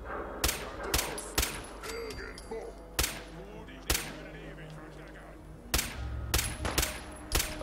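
Gunfire from shooting a dog in the video game Fallout 4, a scattered series of loud, sharp shots in irregular bursts, with someone talking quietly between them.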